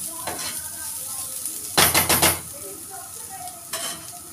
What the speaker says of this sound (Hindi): इन सबको हम मिला के 2 मिनट तक भून लेंगे